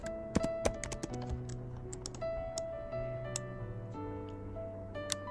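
Typing on a computer keyboard while building a sales performance dashboard in Figma: a run of light key taps and clicks at close range, irregular in rhythm, over steady low background tones, with no talking.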